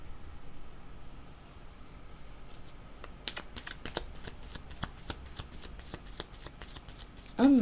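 Tarot cards are shuffled by hand at close range, a soft rustle that gives way to a quick run of crisp riffling slaps, with a brief bump at the end.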